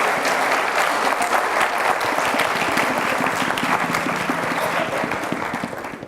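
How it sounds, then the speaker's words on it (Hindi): Dense, sustained audience applause at a Christian gathering fills the space as a steady roar of many hands, holding strong before tapering off in the final second. "जोरदार तालियों से"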